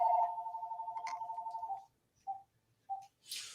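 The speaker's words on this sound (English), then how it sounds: "this phone here, let me stop it from ringing" A telephone rings indoors with a fast warbling electronic trill that runs for nearly two seconds, then two short broken chirps follow as it is silenced, with a faint rustle at the end.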